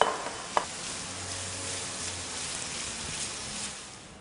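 Ratatouille vegetables with tomatoes cook in a pan, giving a steady close sizzle with soft stirring and scraping throughout, and one sharp clink near the start.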